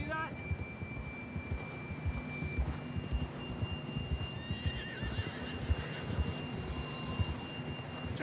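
A horse in the Red Dead Redemption 2 game whinnies and clip-clops along a trail, moderately close and fairly quiet, with faint tonal game sounds drifting underneath.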